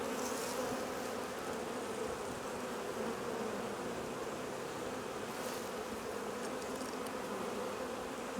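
Honey bees buzzing around an open beehive during an early spring split, a dense steady drone that stays loud and close throughout with no talking.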